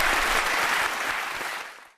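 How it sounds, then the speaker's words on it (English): A studio audience at a Christmas Eve radio quiz breaks into loud, steady applause that holds for nearly two seconds and then fades quickly to silence. "Applaud the audience, applaud themselves, applaud the teams."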